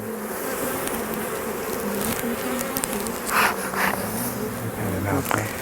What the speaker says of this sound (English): There's a bee in my hair.